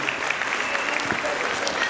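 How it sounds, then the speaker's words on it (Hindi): An audience at a school annual function applauds steadily, dense clapping filling the room at an even level, with faint voices mixed in. "एक बार जोरदार तालियां बजाइए अपने ही छोटे मोटे सितारों के लिए।"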